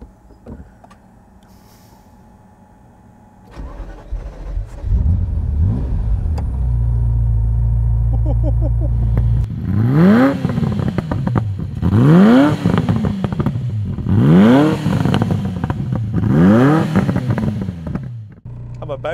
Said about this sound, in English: I'm about to drive a Ferrari F40.